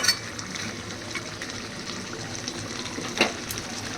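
Mutton with garlic sautéing in a pan, a steady soft sizzle with a few light scrapes and clinks, close and moderate in level, no talking.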